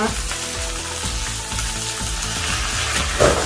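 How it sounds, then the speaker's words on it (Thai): Fresh Thai curry paste sizzles as it is stir-fried with a splash of plain water in a pan for fried rice with crispy fish, a close, steady crackle with spatula scrapes and stirring. "นำน้ำพริกแกงค่ะ ใส่ลงไปผัดนะคะ เติมน้ำลงไปนิดหน่อยค่ะ"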